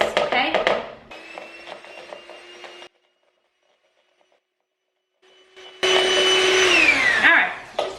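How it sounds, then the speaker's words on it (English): An electric hand mixer beats gluten-, dairy-, egg- and oil-free Pfeffernusse spice cookie batter in two bursts of whirring with a silent gap between, the second burst louder and trailing off as it winds down. "Then we're gonna mix it with our hand mixer for just like a minute, just to really just kind of warm up those spices"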